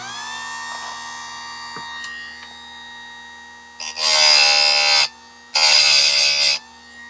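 A Harbor Freight chainsaw chain sharpener hums at idle, then grinds in two loud, bright bursts of about a second each, separated by a short pause, close to the listener.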